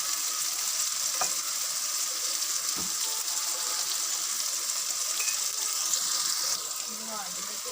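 Chana masala gravy frying in a pan as red chili powder is stirred in, a loud steady sizzle with occasional scraping strokes of the spoon, easing slightly toward the end.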